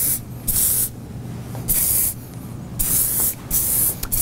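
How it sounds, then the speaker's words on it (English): Hairspray is sprayed onto styled hair in four short hissing bursts, close and loud, separated by brief quiet gaps. "Use a little bit more of your spray to get that to blend right in."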